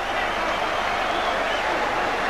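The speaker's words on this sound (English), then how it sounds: "what a reception from this Albert Hall crowd" A crowd at the Albert Hall claps and cheers after a boxing fight, a dense, steady roar of applause filling the hall without a break.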